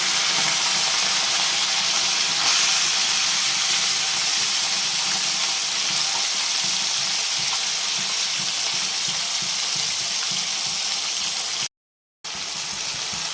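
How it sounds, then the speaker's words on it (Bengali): Steady, dense sizzling of small puti fish frying in hot oil, a continuous crackling hiss with no talk, briefly cutting out near the end. "মাছগুলো একটু ভেজে নেব"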